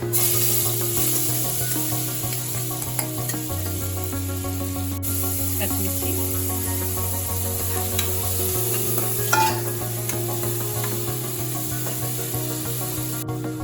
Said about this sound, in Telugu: ఆయిల్ వేసుకుని ఆనియన్స్ ఫ్రై చేసుకున్నాం